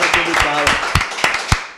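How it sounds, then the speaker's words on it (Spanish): Applause for the crew behind the cameras comes as scattered, close claps from a few people, heard over someone talking. "Un aplauso para la gente."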